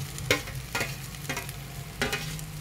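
Potatoes fry in a pan while a spoon stirs them, giving a soft continuous sizzle broken by four sharp scraping stirs at a slow, uneven pace, close by and with no speech.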